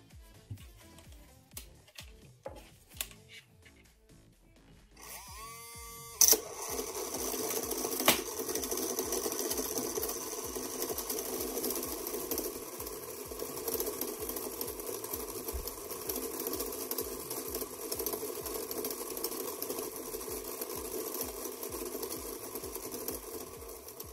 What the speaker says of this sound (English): with this motor, I will discharge this cell.